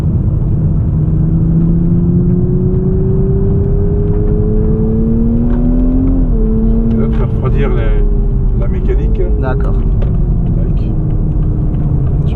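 A Toyota GR Supra on a race circuit, its engine droning steadily inside the cabin and rising and falling in pitch as it shifts and lifts. Someone talks over the engine.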